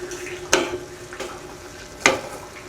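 Spoon scraping through igado in a hot pan after liver spread goes in, with a few distinct stirring strokes over a low, steady sizzle of frying meat.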